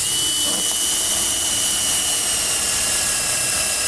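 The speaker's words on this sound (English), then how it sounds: "the line and the dowel jig will make sure that you drill the hole in exactly the right spot" A power drill bores into hardwood through a dowel jig, running steadily with a high, whining motor tone over a broad hiss. It stays loud and unbroken throughout, with no voices.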